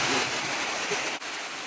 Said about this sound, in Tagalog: Malakas na talaga yung ulan tol.